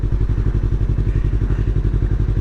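A Yamaha R3 motorcycle fitted with an Akrapovic slip-on exhaust idles close by, a deep, steady, loping burble with regular pulses and no talk over it.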